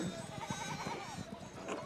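Sheep bleat in the medieval video game Pentiment, a wavering, quavering call heard faintly amid game ambience and light background sound.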